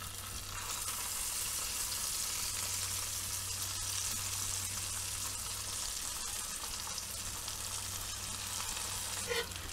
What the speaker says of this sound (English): So these are now going to get to be cooked into the butter